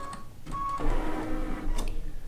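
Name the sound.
Baby Lock quilting machine carriage moving and cutting thread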